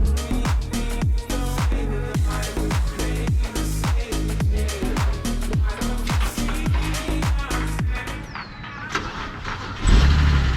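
A BMW E60 engine turns over repeatedly with rhythmic cranking bursts, then catches near the end, loud and close.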